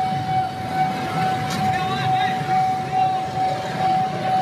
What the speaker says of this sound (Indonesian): Belakangnya sudah ada lagi kereta.